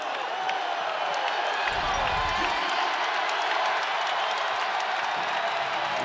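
Basketball arena crowd cheering and applauding loudly and steadily through a Clippers game, a dense roar with a brief low thump partway through.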